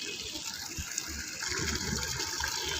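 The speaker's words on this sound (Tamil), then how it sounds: "பெரிய பக்கெட்டில் பார்த்திங்கன்னா ஒரு பாதிக்கும் மேலே தண்ணி பிடிச்சிக்கோங்க." Tap water gushing steadily into a large bucket, filling it past halfway for a homemade helmet cleaning; a continuous broad splashing rush that grows slightly louder partway through, with no talking.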